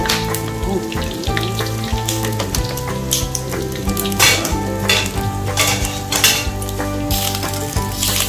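Oil sizzles and spatters steadily as pork sisig fries in a pan, a loud, continuous crackle with occasional clinks of the pan and utensils.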